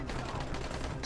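Dense burst of rapid gunfire in a video game, many shots overlapping in a loud continuous clatter for about a second.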